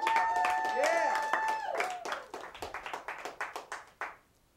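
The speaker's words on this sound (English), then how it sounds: "give him a round of applause" A small group claps for a person, sparse and uneven at first under a whooping voice, then thinning to a few distinct, evenly spaced handclaps that stop abruptly.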